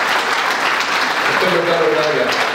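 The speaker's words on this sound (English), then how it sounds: "give a big round of applause to your parents and family for everything they've done for the last 13 years" Graduating seniors at an awards ceremony applaud their parents and families, a steady wash of crowd clapping with a voice rising over it partway through.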